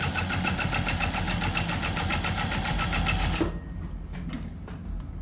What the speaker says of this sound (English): So you can just sew along that part.